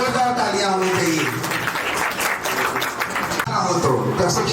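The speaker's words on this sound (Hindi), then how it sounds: "एक बार जोरदार तालियां होनी चाहिए बच्चों के लिए" An Independence Day audience at a school event applauds the schoolchildren, a loud burst of clapping mixed with voices and crowd noise that carries through the whole moment.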